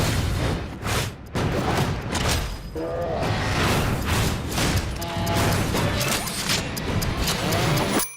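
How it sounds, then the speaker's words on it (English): Action-movie trailer footage of a superhero film set in a factory-like place: bursts of gunfire, impacts and whooshes build into a loud explosion, with dense overlapping crashes and booming hits throughout. "There's some gunfire action, followed by an explosion in this factory-looking place."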